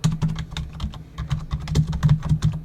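Quick typing on a computer keyboard, a brisk run of close, crisp key clicks in an uneven rhythm, with no talking.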